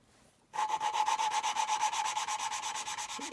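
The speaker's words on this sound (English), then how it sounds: "it actually gets quieter as you're going because it's actually grinding down the paste" Valve on a Land Rover Series 2A engine being lapped into its cylinder head by hand with grinding paste, a close, steady rhythmic gritty rubbing with back-and-forth strokes that starts abruptly and continues throughout.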